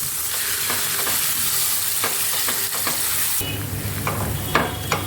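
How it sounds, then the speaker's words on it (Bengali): Grated raw mango sizzles in hot oil with tempering spices while being stirred for chutney, a continuous close frying hiss broken by scraping strokes of the spoon. "গ্রেট করা আমটা আমি দিয়ে দিচ্ছি। দিয়ে ভালোভাবে নেড়ে নেব।"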